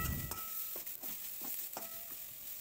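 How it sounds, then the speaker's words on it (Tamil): Onions sauté in a pan for potato masala with a faint, low sizzle, broken by a string of quiet, rhythmic scraping strokes as they are stirred. "இது சும்மா வதங்கினாவே போதும்"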